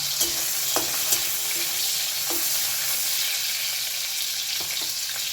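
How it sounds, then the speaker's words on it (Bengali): Chopped ginger, onion and garlic sizzle steadily in hot white oil while cooking Afghani paneer, a dense continuous frying hiss punctuated by a few sharp utensil clicks and stirring scrapes, close and fairly loud with no voices. "তেল গরম হয়ে গেছে এর মধ্যে সেই কেটে রাখা আদা পেঁয়াজ রসুনটা আমি"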